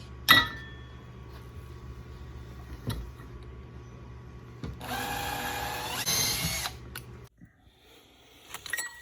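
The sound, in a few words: electric drill drilling holes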